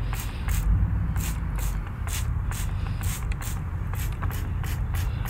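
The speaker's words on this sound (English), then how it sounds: "we'll just give it a little spray here" A handheld spray bottle squirted repeatedly during a classroom-style demonstration, a quick series of short hissing bursts at close range over a low background rumble.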